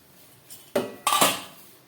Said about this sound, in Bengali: চলুন ঢাকাটা খুলে দেখি কতটা সিদ্ধ হয়েছে।